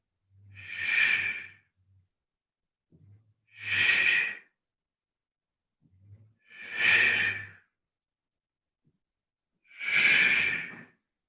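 Slow, deep breaths during a qi gong movement: four long, airy breathy exhalations spaced evenly a few seconds apart, close and clear with quiet pauses between.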